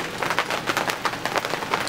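Heavy rain pours down with a dense, hissing patter on surfaces, steady and close, with no one speaking.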